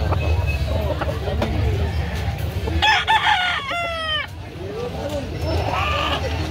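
A rooster crows loudly in a long rising and falling call, with another crow faintly later, over a busy background of chatter and low noise.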